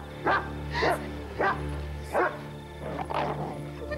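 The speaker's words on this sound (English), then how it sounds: "Dog." A dog barks close by, four or five sharp woofs at an uneven pace over a low background hum.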